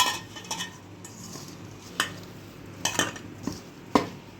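Spoon scraping and clinking against a metal cooker pot while spice batter for poha dhokla is mixed, a few sharp knocks and scrapes spaced out over quiet room tone.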